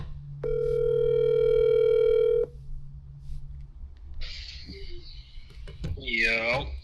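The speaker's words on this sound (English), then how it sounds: "let's just call him and see" A telephone dial tone hums steadily for about two seconds while a call is placed, then cuts off, followed by faint rustling and a short burst of speech near the end.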